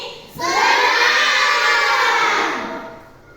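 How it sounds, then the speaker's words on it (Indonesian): A classroom of children applauds together in a burst of clapping and cheering that swells quickly, holds for about two seconds and then fades. "Ya, tepuk tangan semuanya."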